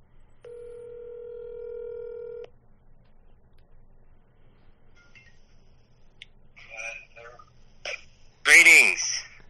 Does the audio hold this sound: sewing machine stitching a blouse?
no